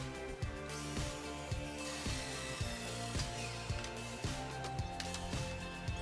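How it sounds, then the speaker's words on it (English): A saw cuts a 5-inch plywood piece at a 45-degree bevel for a bench build, producing a steady, evenly spaced series of rasping strokes, fairly faint and with no talking. "We're going to cut a 5-inch piece, and each of those ends are going to be beveled at a 45-degree angle."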